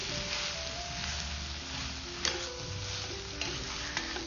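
Spoon stirring a thick ladoo mixture of aliv (garden cress) seeds, jaggery and spice powder, a steady scraping and soft sizzle in the pan with a few sharper knocks, close up and alone.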